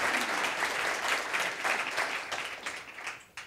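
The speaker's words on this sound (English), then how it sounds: "I want to applaud Lisa Merrill back there" An audience at an organization's meeting bursts into brisk, continuous applause that tapers off slightly toward the end, with no speech over it.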